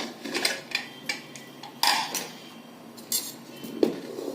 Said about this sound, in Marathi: कुकर मधली वाफ पूर्ण निघून गेलेली आहे. आता आपण याचं झाकण काढूया.